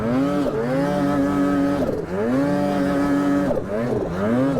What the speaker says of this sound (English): little bit of over rev right now.